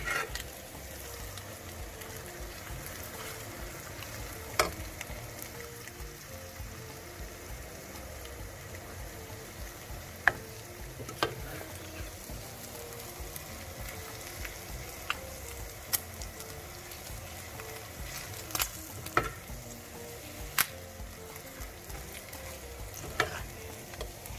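Egusi (ground melon seeds) fries in a pot with pepper and paprika, giving a soft, steady sizzle that is broken now and then by faint clicks of stirring, heard close with no talking.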